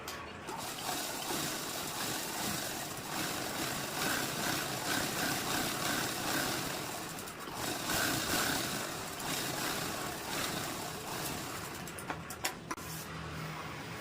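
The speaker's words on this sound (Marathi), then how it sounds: "बघा, आता आपण शिलाई मारून घेऊया।" A sewing machine stitching a cloth roti cover, running as a continuous mechanical whir with a brief pause midway and a few clicks near the end.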